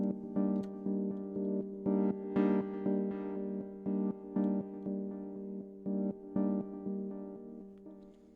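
A buzzy, harmonically rich synth alarm tone called Fuzz Alarm from a hybrid sample library, pulsing in short repeated bursts of uneven length, steady and fairly loud, with no voices.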